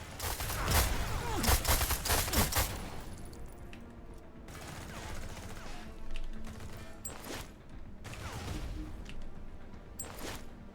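Grenade blasts and gunfire in a moon-set shooter video game, dense heavy bursts of explosions and shots early on, then scattered booms and crackles over a rumbling background.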